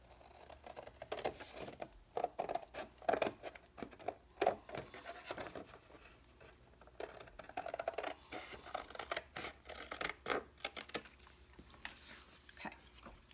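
Scissors cut a 6-inch paper square for an accordion artist book, with repeated quiet snips and paper rustle, close and soft, with no voices.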